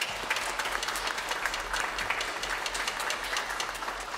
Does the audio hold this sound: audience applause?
yes